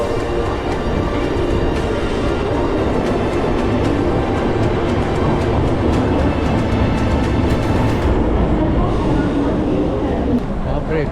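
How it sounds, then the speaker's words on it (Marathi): A crowded Mumbai local train pulls into the station, a loud sustained rumble and clatter of wheels and carriages filling the whole span, with a busy crowd talking over it. "ट्रेन आली."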